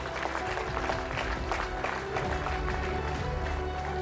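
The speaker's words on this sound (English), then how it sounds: "You can be a little more generous with your applause" An audience at a panel discussion applauds steadily, dense clapping filling the space at moderate loudness, with no speech over it.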